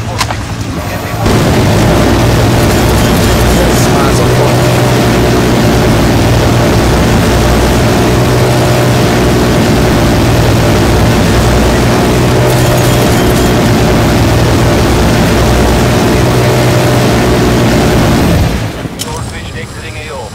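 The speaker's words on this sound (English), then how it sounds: "Zako, deploy chopper gunner on my grid." Chopper gunner helicopter killstreak in Call of Duty Black Ops Cold War: a loud, sustained low rotor and engine roar with booming blasts runs continuously for most of the stretch, then cuts off near the end.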